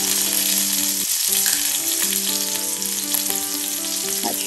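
Chicken pieces going into hot ghee in a pan for a Mediterranean-spiced stew, a constant close crackling sizzle with a faint tonal hum running underneath.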